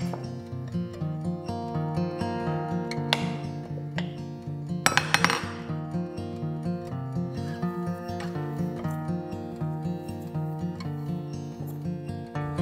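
A utensil clinks and scrapes against a bowl while cornstarch, chili flakes, garlic powder and salt are stirred together, with steady rhythmic tapping under continuous background music.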